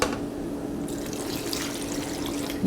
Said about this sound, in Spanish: voy a agregar un poco de esta misma agua donde se cocinaron los chiles